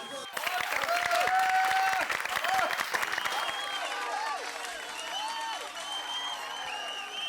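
Audience applause for a qawwali performance, a sustained wash of clapping and scattered cheers that fades gradually toward the end, with voices calling out over it.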